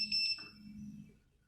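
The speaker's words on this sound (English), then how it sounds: "Now another thing we can do on this is turn the beeping off." Defiant keyless deadbolt keypad emitting a short pair of high electronic beeps, close and clear, followed by quiet.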